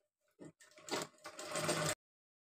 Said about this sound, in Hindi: हमने यहाँ पे सीधे सीधे सिलाई लगा लिया